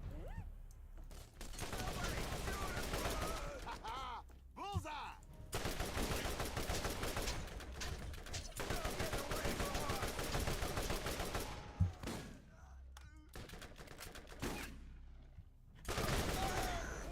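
Sustained bursts of rapid gunfire from a mounted gun in the video game Borderlands, loud and continuous with short pauses between volleys, mixed with brief voices and game effects.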